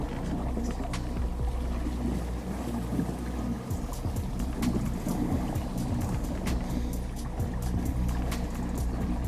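A fishing boat glides across misty water with its motor raised, giving a steady low rumble and a wash of water and wind, plus scattered light clicks and knocks close by and no voices.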